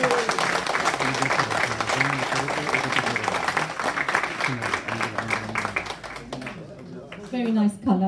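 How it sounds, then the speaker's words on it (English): Applause for models and players at a sports club's annual award ceremony and kit launch, a crowd clapping continuously under a loud amplified announcer, with music in the background and speech taking over at the end. "Please give them a loud round of applause."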